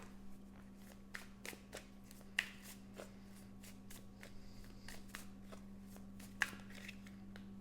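Tarot cards being shuffled by hand at close range, a series of crisp riffling snaps and flutters in irregular bursts over a quiet, steady background hum, with no speech.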